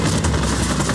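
A helicopter in Watch Dogs: Bad Blood, a steady loud rotor drone with a thrumming low pulse, heard continuously for a brief moment.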